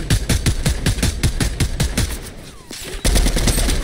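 Gunfire in a video game shootout crackles as loud, rapid automatic bursts of evenly spaced shots, a brief lull, then another heavy burst.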